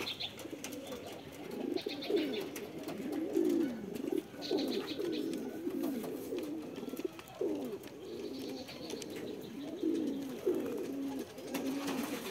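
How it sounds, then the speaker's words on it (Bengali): Pigeons, one female and two males, coo in repeated low rolling phrases close by, a steady overlapping rhythm of throaty calls with faint chirps in the background and no talking. "মধ্যিখানে একটা মাদি কবুতর আর দুই সাইডে দুইটা নর কবুতর।"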